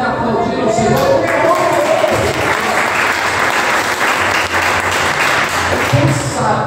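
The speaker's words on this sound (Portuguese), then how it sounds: "Você pode aplaudir o Senhor." A church congregation applauds together during an evangelical service, dense and steady clapping filling the room, with faint voices mixed in beneath the sustained applause.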